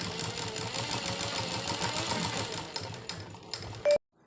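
A sewing machine stitches the side seams of palazzo trousers with a fast, rhythmic mechanical whirr close up, slowing near the end before stopping abruptly.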